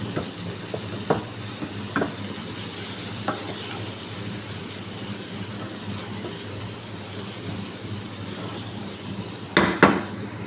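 Garlic fries in oil in a home kitchen pan while a utensil stirs it, making a steady soft sizzle with occasional clacks and scrapes of metal against the pan and a louder clatter near the end.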